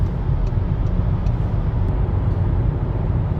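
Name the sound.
car accelerating downhill in tunnel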